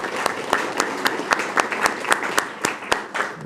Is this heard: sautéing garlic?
no